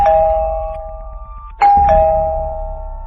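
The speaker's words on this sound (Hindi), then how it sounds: "घर की डोरबेल बजाता है" Two electronic ding-dong chimes from a house doorbell, each ringing tone held and decaying, loud and close, with the second press following about a second and a half after the first.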